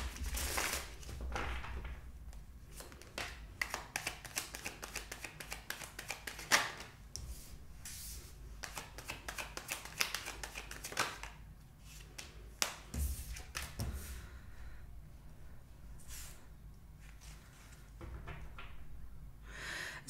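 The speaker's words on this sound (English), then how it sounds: "Last shuffle." Tarot cards being shuffled up close in a quiet room, with a steady run of soft riffling and tapping bursts and no talking.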